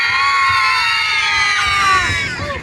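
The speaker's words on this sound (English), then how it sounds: "Really good screamers." Passengers on a ghost train ride scream together in one sustained, loud, high-pitched chorus of shrieks that holds steady and then tails off near the end.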